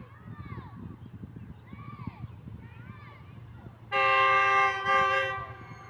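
The Pak Business Express approaches after rainfall with its GU40 locomotive. A low rumble runs under faint voices, then a loud sustained horn blast sounds in two long pulses near the end.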